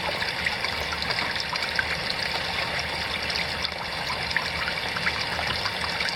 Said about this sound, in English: I'm just going to run them through my miller table.